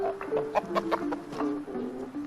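A chicken clucks close by in a series of short, nasal calls with rising and falling pitch, moderately loud and with no talk over them.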